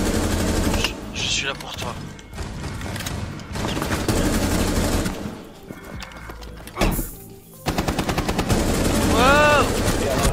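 Rainbow Six Siege gunfire sounds in several bursts of rapid shots and mechanical clatter. French-speaking voices talk over it, and there is a brief gap before a final loud volley.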